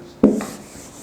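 A board being rubbed clean during a physics lesson, one short scrubbing swipe that starts abruptly, fades within a fraction of a second and leaves quiet room tone.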